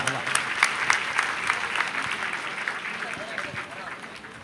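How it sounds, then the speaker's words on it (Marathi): Audience clapping to welcome a revered guest at a religious gathering, steady dense applause from a crowd that holds for the whole stretch and eases slightly toward the end. "बाबांसाठी टाळ्या वाजवा।"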